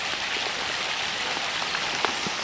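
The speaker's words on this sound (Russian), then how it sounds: "Дождик зарядил." Rain falling in virgin taiga forest, a steady broadband hiss with scattered drips pattering on leaves and ground, close and continuous with no voices.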